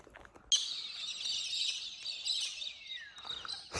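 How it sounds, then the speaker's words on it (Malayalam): Birds chirping steadily, a dense high twittering that starts abruptly and continues throughout, moderately faint with no talking. "ഈ ഫുള്ള് കിളികൾ കേട്ടോ കിളികൾ അങ്ങോട്ടും ഇങ്ങോട്ടും ചുമ്മാ കറങ്ങി നടക്കുക"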